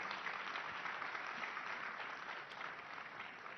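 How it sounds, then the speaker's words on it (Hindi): Sustained applause from a large audience welcoming a speaker on stage at a conference, dense and steady throughout, a continuous wash of clapping with no voices standing out. "जोरदार तालियों से इनका स्वागत कीजिए"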